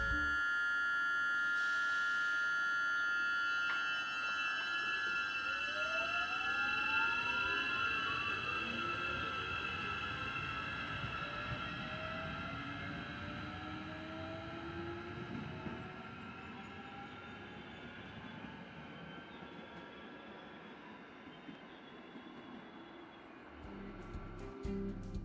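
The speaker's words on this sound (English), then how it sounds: "This is a fleet of 83 two-car units that were built between 2010 and 2016 by Hyundai-Rotem of South Korea, and here is an example of what they sound like." A Hyundai-Rotem Matangi class electric commuter train in Wellington passes close by, with steady rumbling wheels on track and rising and falling whining motor tones that slowly fade as it moves away.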